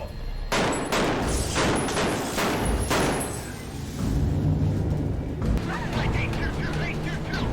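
Gunfire from a TV show scene in which a server is shot, heard as sustained loud bursts of shots and crashing impacts with dense, noisy clatter, and voices talking over it.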